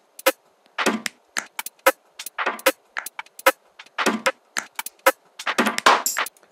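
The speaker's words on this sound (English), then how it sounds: "Layer in a percussion loop" A layered percussion loop in an Ableton color bass track plays alone, with crisp clicking and woody knocking hits and short noisy bursts in a syncopated, steady rhythm.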